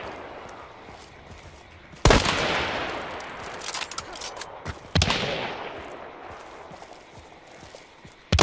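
Gunfire in the video game Hunt: Showdown: two sharp, loud shots about three seconds apart with rolling echo tails, a third crack at the very end, over quiet ambient background.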